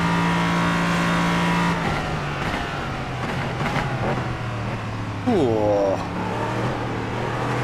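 Race car engine in the Le Mans racing video game, droning steadily then dropping in pitch as the car brakes, with a brief rising-and-falling rev near the end; a voice exclaims briefly over it.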